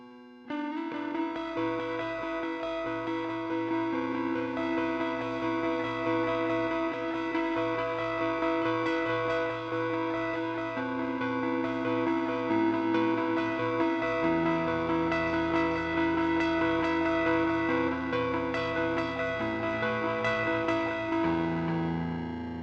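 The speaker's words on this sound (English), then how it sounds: "There's this sound called wind." Guitar played through the wind effect of a Zoom GFX 707 processor gives a sustained, lo-fi chordal wash with a steady distorted drone, holding level and unbroken for over twenty seconds without any voice.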